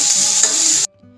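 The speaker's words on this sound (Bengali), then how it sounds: "কড়াইয়ে বেশ খানিকটা তেল দিয়েছি, তাতে গোটা গরম মশলা ফোড়ন দিয়ে পেঁয়াজ কুচিগুলোকে ভেজে নেব" Chopped onions fry in plenty of oil in a wok with whole garam masala, a loud steady sizzle with stirring that cuts off abruptly, leaving near silence.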